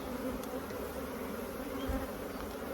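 Honey bees buzzing steadily at an open hive during an early spring inspection, a dense continuous hum close by with no voices.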